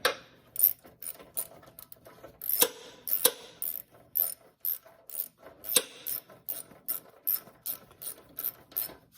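Rapid ratchet clicks ring out close and fairly quiet as a fastener is tightened on a snowblower, short metallic bursts in a steady back-and-forth rhythm with no voices.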